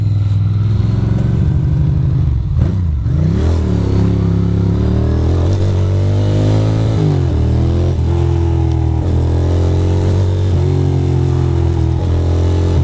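A Mustang's engine rumbles and revs loudly on a city street at night, with a steady low drone and several rising pulls, close and continuous without talk.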